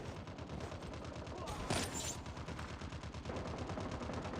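Rapid automatic gunfire in the mobile shooter Call of Duty Mobile, a fast regular stream of shots running throughout at moderate volume with a brief louder burst in the middle.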